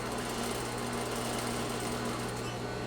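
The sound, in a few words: sewing machine stitching fabric layers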